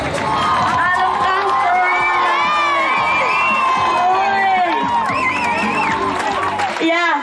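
A roaring crowd at a concert appearance at The Dome in winter 2001 cheers, whoops and shrieks without a break, a dense wall of excited voices close and loud throughout.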